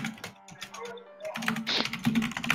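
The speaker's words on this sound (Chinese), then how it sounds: "这打字声666" Computer keyboard typing during a Don't Starve Together game session, a quick run of close clicky keystrokes with uneven rhythm, mixed with faint game sounds and a little background voice.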